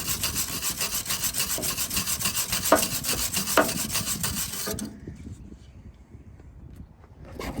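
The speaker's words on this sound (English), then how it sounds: "Let's sand this one off." Steady, rhythmic rasping strokes of sanding rust and paint off a 1955 Ford F-700 grain truck, loud and close with a couple of sharper scrapes, then stopping abruptly into near quiet.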